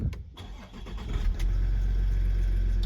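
A 2016 Range Rover HSE TD6 diesel engine cranks and catches, then settles into a steady, loud idle with a rough, rattling low-end diesel clatter.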